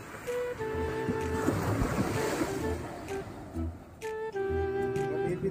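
Sea waves washing against a boat out on open water, a steady broad wash of surf with wind buffeting the microphone throughout, while sustained tonal hums run underneath.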